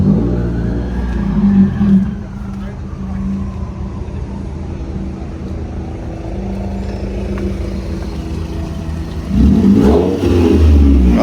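Car engine revving hard on a dyno during a base pull with its existing tune, a loud sustained roar that swells near the start, steadies through the middle and surges again toward the end, with no talk.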